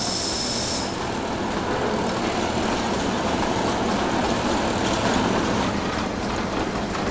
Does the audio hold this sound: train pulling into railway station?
yes